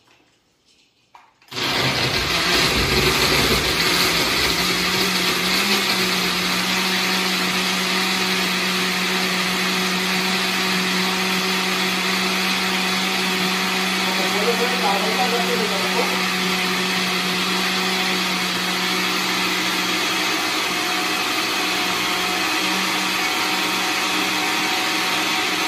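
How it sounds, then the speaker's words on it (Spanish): A kitchen blender whirs continuously at full power through a berry smoothie with oats, starting abruptly after a moment of quiet and holding a loud, steady motor roar to the end. "Y lo vamos a licuar. Se va a hacer un poquito de ruido, pero lo vamos a licuar aquí."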